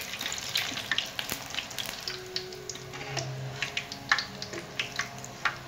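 Boondi drops fry in hot oil with a soft sizzle, broken up by frequent small crackles and pops, fairly quiet and close, with no voices.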